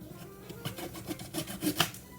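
Knife blade scraping and rasping as it trims the long stem off a fresh ear of corn, a series of short gritty strokes close by with no talking.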